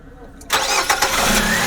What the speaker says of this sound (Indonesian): Silahkan didengarkan suara mesin dari